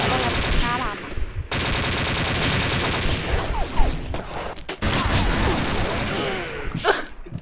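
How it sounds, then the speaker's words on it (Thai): Rapid gunfire from the online shooter XSHOT during a clan match, dense automatic bursts and single shots filling nearly the whole stretch with only brief gaps, loud and close, with players talking over it. "ยิงกันมันเลย"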